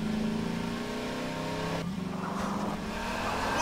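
A car engine in Half-Life 2 drones steadily at a constant pitch, then shifts lower as the vehicle slows, with rough rattling and tire noise underneath.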